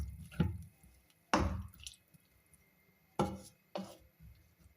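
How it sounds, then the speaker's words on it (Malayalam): Second coconut milk going into a papaya curry in a pot: a few soft, separate splashes and drips at an irregular pace, quiet and close, with no talking. "ഇനി ഇതിലേക്ക് നമുക്ക് പിഴിഞ്ഞ് വെച്ചിരിക്കുന്ന 2ാം പാല് ഒഴിച്ചു കൊടുക്കാം"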